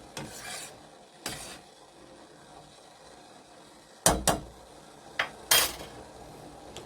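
A spoon scrapes and clinks against a pot of boiling eucalyptus tea in a few scattered bursts of stirring, with sharper metallic knocks and scrapes clustered toward the end over a low, quiet background.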